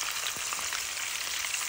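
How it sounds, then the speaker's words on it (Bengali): Sliced eggplant fries in a hot pan with a continuous, close sizzle and crackle of oil, heard alone without talk. "এখানে বেগুন ভাজা করছি"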